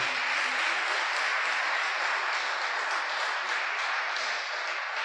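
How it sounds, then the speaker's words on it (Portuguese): A congregation at a church service applauds steadily and loudly throughout, a dense, even wash of clapping with no pauses. "deem um forte aplauso ao Senhor"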